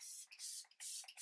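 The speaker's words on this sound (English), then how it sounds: "Spraying my face before we're gonna go in with lips." Face setting spray misted from a pump bottle during a makeup routine, three or four short airy hisses in quick succession, close and fairly faint.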